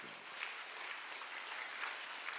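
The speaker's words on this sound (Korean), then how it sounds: "박수" A church congregation at a Friday summer mountain-retreat service breaks into steady, dense applause that fills the whole stretch at an even level, with no talking over it.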